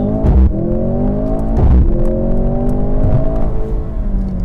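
A 2024 Mercedes-Benz C63 AMG accelerating hard, its engine loud and close, pitch climbing steadily through the gears with brief dips at each shift.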